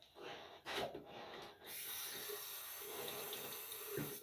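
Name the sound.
water running from a tap while shaving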